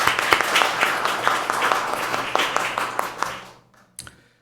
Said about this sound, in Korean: 함께 박수로서 환영하겠습니다.